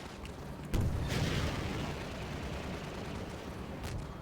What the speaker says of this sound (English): they're really good at shooting those rockets down